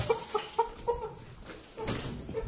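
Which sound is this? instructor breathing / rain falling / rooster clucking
rooster clucking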